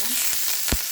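Curry leaves drop into hot oil with mustard seeds, giving a brief burst of crackling sizzle with a few sharp pops, close and clear.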